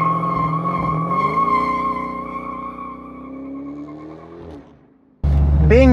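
A Dodge Charger Hellcat accelerating on city streets, its engine rising in pitch and then settling into a steady drone before fading, followed abruptly by a loud burst of different noise at the end.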